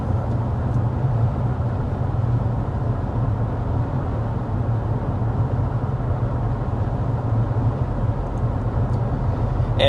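Steady, loud cabin road noise inside a 2025 Mercedes GLA 250 cruising at 55 mph, a constant low rumble of tires and wind with no talking.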